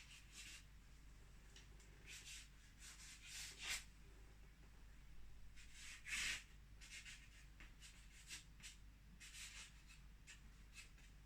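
Pencil shading across paper in soft rubbing strokes, some quick and scratchy and others slow, faint and close with pauses between bursts.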